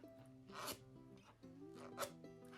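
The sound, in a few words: scraping off ginger from honey syrup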